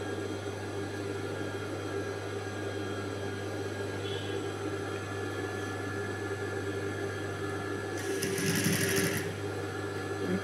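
A sewing machine stitching a blouse patti runs in a steady, even hum for the whole stretch, with a brief brighter clatter near the end.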